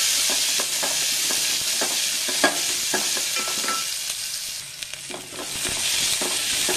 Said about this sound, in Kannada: ಕರಿಬೇವು ಹಾಕೋಣ, ಚೆನ್ನಾಗಿ ಫ್ರೈ ಮಾಡೋಣ